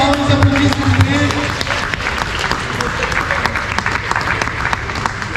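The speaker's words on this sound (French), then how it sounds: "on vous applaudit s'il vous plaît" Steady crowd applause fills the whole stretch, dense and continuous, with voices and cheering mixed in underneath, at a tournament final in Creil.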